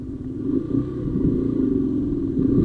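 A motorcycle engine running with a misfire, a steady low rumble with slight irregular stumbles, close and fairly loud throughout.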